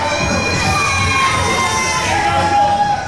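A wrestling-show crowd cheers and shouts loudly and steadily throughout, with high children's yells standing out over the dense roar of the audience.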